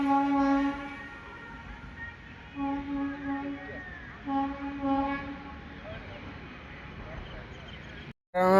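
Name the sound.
train horn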